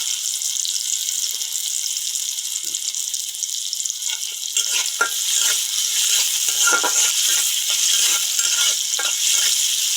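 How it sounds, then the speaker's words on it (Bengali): Dried chilli, onion and garlic fry in oil with a constant bright sizzle, growing busier and more crackly halfway through as stirring adds scattered pops. "শুকনো মরিচ পেঁয়াজ রসুন কাটে নিচ্ছি। এই শুকনো মরিচটা দিচ্ছি,"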